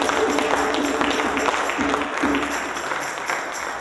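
An audience claps and cheers at a Kwanzaa celebration: steady, dense applause that holds at a fairly even level for the whole stretch, with the crowd's noise filling the room.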